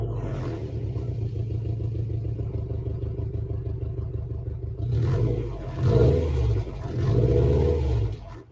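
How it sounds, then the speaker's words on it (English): A car engine, pictured as a mean-sounding Haas, idles with a steady rough rumble, then roars louder in revving bursts toward the end, close to the listener with no talk. "Nope, this is what the car sounds like."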